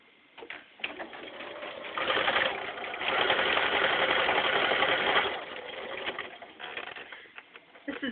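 A domestic sewing machine stitches pieces of a T-shirt quilt, starting with short stop-start bursts, then running steadily for a few seconds before slowing back to intermittent stitching, at moderate, fairly close volume.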